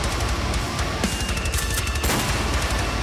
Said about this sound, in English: That shotgun sound is so good.